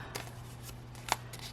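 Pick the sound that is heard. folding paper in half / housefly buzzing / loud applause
folding paper in half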